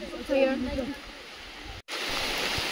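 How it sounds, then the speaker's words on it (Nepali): Heavy rain pours down at an outdoor tree-planting and cleanup drive, a dense, steady hiss of falling water after a brief voice at the start and a short cut. "पानी एकदम परिरहेको छ यता"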